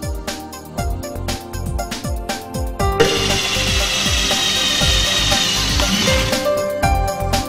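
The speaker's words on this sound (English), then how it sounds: "Mark the exact spot and drill the holes, paying special attention to the right inclination of the holes" Close, loud drilling into a metal gas manifold: a rapid rhythmic chattering for a few seconds, then a sustained high grinding whine that eases off near the end.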